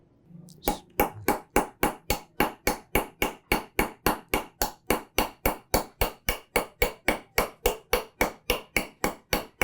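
A hammer strikes a chisel while carving stone. Close, crisp, evenly spaced blows ring out about three times a second without a break, with no talk.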